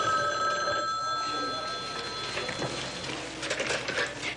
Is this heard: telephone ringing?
yes